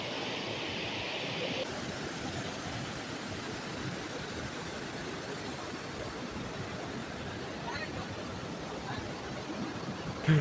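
Lakkam Waterfalls near Munnar, on the road to Marayoor, gives off a dense, unbroken roar of falling water that holds at the same loudness for the whole stretch.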